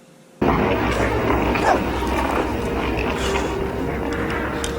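War dogs in a science-fiction TV battle scene bark and yip amid a loud, dense soundtrack, the barking steady and mixed under constant rumbling noise.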